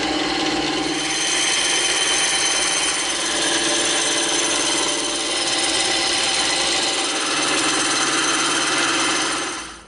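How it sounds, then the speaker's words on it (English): Thick EVA foam for a medieval mace is cut with a power tool, giving a continuous loud, close buzzing grind that holds steady throughout with no talk. "we're going to cut off the squares first"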